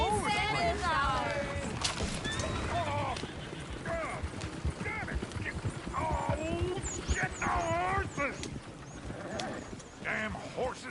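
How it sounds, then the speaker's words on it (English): In a video game, horses clip-clop at a gallop with repeated loud whinnies and squeals over a rough, busy background of hoofbeats and movement. "Damn horses!"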